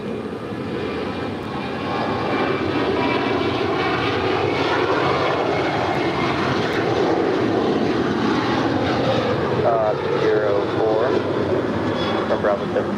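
An American Airlines Boeing Dreamliner departing LAX, with a loud, continuous engine roar filling the air while someone talks over it.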